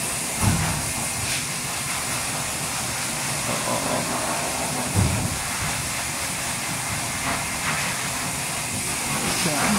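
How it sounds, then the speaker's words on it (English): A pet grooming blower runs continuously in a pet supply store, a loud steady broadband hiss and rush throughout, with brief bumps and muffled voices of people talking underneath. "He wants to eat the blower."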